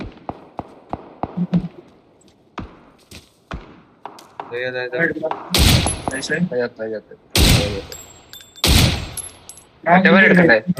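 Sharp video game gunshots crack out, first as a quick run of single shots, then louder bursts, with voices talking between them.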